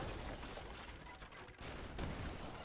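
Heavy cannons and gunfire in a strategy video game battle, a dense continuous crackle of shots with a sharper burst near the end, moderately loud and unbroken.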